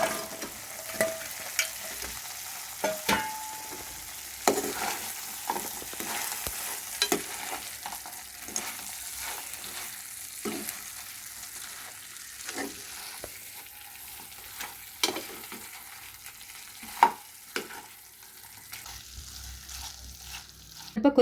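Chicken pieces for chicken Manchurian sizzling in a pan, a steady close crackle of frying broken by repeated sharp scrapes and clacks of a spoon stirring, with no talk.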